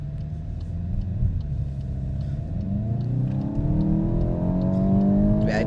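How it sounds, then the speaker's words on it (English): A 2026 VW Golf GTI accelerates, its engine rising steadily in pitch and growing louder from inside the cabin, a smooth building rumble with no talk. "it definitely accelerates pretty quick"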